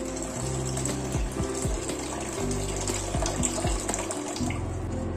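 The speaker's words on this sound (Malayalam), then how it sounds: "നമുക്ക് ഇതിലേക്ക് ആവശ്യത്തിന് വെള്ളം അങ്ങോട്ട് ചേർത്ത് കൊടുക്കണം" Water poured into a Kerala-style hamour fish curry gravy, a gurgling stream with bubbling, tonal splashes that runs unbroken, close and clear with no speech.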